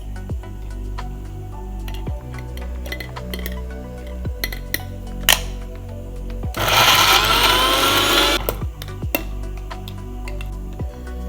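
A mixer grinder whirs loudly for about two seconds, grinding ginger and garlic with two teaspoons of vinegar into a fine paste for pork vindaloo. Quiet kitchen clinks and taps come before and after the burst.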